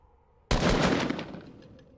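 A single sharp, loud gunshot blast fired in a video game at Polar Peak, starting abruptly after a moment of quiet and decaying with a long, rumbling tail.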